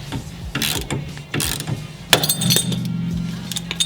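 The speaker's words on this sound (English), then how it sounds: "it makes quite a popping noise when you're applying this tool for this ball joint to be pressed out" A ball joint press tool works on a BMW E30 suspension ball joint with repeated clicking ratchet strokes, then a sharp pop and a sustained creaking groan as the joint gives way, alone and close.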